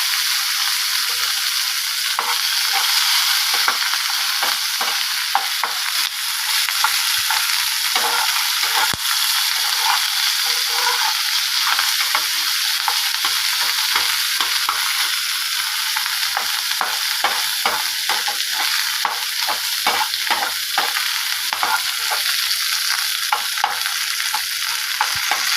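Onions fry in a pan for Kerala-style egg malai masala, a loud steady sizzle with frequent stirring scrapes throughout and no voices.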